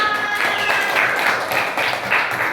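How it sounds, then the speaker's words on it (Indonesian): Clapping from a classroom full of people, a dense, steady patter of many hands lasting a couple of seconds with no voices over it. "Mbak Atika, tepuk tangan."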